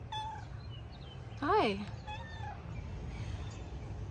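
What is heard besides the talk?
cat meowing in garden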